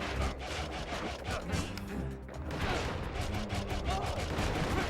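Rapid gunfire from the video game Bastion, with dense volleys and sharp cracks layered over rumbling booms that keep up steadily and loudly throughout.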